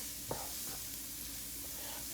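Softened onions sizzle gently in a skillet for a sausage zucchini dish, a quiet, steady frying hiss with a faint clink or two and no talking.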